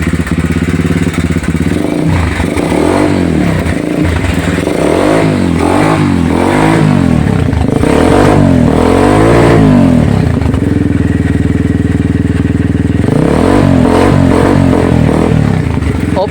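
A Zongshen motorcycle engine, just repaired at the carburetor for cold starting, fires up and runs loud and close, revving repeatedly in rising and falling surges before settling into a steady idle.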